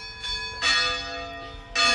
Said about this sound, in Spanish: vamos a escuchar campanadas